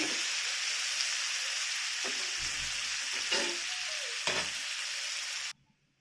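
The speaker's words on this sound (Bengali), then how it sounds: "পেঁয়াজটা ভালো করে ভেজে নেবো।" Chopped onions frying in a pan, a steady loud sizzle with a few stirring scrapes, cutting off abruptly near the end.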